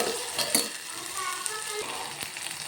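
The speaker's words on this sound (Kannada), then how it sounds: "ಒಂದು ಸ್ವಲ್ಪ ಹೊತ್ತು ಎಣ್ಣೆಯಲ್ಲಿ ಒಂದು ಸ್ವಲ್ಪ ಫ್ರೈ ಆಗಬೇಕು" Green chilies fry in hot oil with a constant crackling sizzle, broken by a few sharper knocks and scrapes as a spoon stirs the pan.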